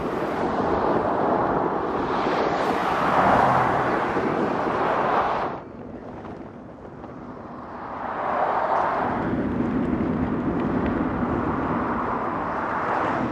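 Strong headwind roaring across the microphone while cycling downhill, a loud continuous rushing gust that dips briefly midway and then surges back, with no talking.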